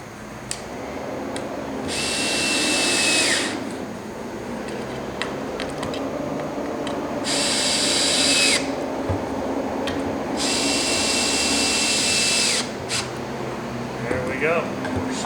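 Power drill removing a screw from a fish chair ottoman, three whirring bursts of a few seconds each over background noise and scattered small knocks, with speech in the clip.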